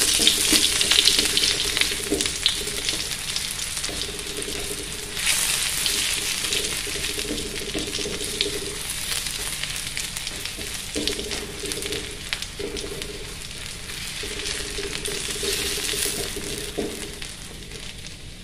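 Shallots and garlic stir-fry in a pan for simple tofu, a steady broadband sizzle running throughout with faint clinks of stirring, close and moderately loud, no voices.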